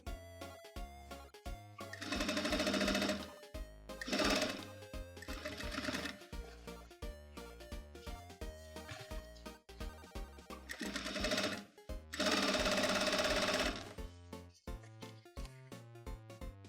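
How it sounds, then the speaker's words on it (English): Sewing machine stitching a hem on jeans, with bursts of rapid mechanical stitching that start and stop several times, loud and close, with no talking. "If you're using a home model machine, this might go a little bit slowly. They don't stitch quite as fast."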